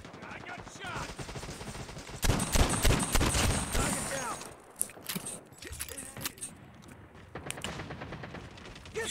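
Pistol gunfire in the mobile shooter game Call of Duty Mobile, a burst of rapid sharp shots with clattering mechanical effects, then scattered single shots and game sounds, with a voice talking at times.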